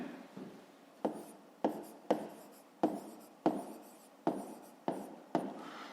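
Pen or marker writing out a math solution for a fifth-grade exercise, nine quick strokes in a steady, uneven rhythm, close and fairly loud with no talking.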